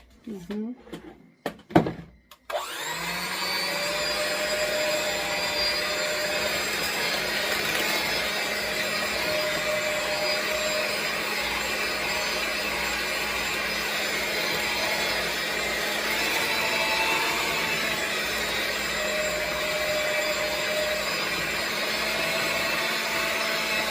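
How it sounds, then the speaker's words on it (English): An electric mixer whisking a thick deviled-egg filling toward a smooth consistency, a few clunks as it starts, then a steady loud motor whir running alone to the end. "So that I can whisk this into a very smooth consistency."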